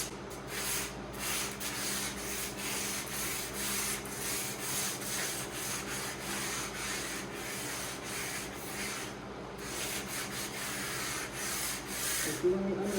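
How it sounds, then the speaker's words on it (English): Hand sanding of a wooden Greenland paddle with 150-grit sandpaper on a soft styrofoam block, worked along the grain. A steady, continuous scratchy rubbing runs close up throughout, with regular back-and-forth strokes. "I'm using a 150 grit sandpaper on a soft sanding block."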